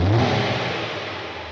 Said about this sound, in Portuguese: Vamos acelerar.